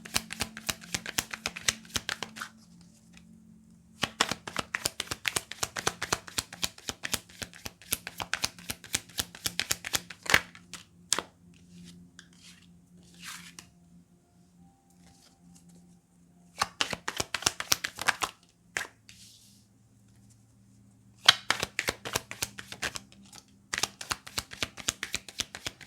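Tarot cards are shuffled by hand in a quiet room for a reading, in several long bursts of rapid, crisp riffling and flicking separated by brief pauses, close and clear with no talk.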